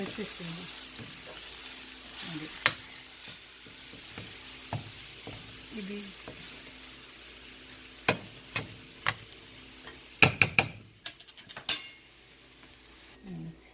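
Spices crackle in hot oil as a tempering is fried for coconut chutney, with faint sizzling throughout and louder pops and utensil clinks near the end; a voice speaks briefly.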